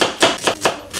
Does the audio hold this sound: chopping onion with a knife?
yes